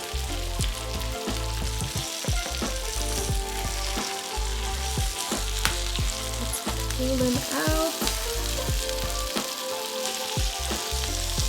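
Steady, loud sizzling and crackling of food frying in a hot pan, continuous throughout, with a brief spoken phrase over it.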